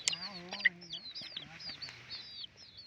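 Chickens cluck and chirp close by at a rural home, a few short calls spread across the moment, with someone talking over them.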